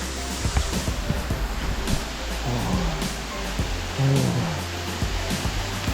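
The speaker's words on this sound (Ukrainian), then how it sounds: "це є Манявський 20-метровий водоспад" A 20-metre waterfall in the Carpathians, the Maniava falls, roars as a dense, steady rush of falling water heard up close, with faint voices over the din.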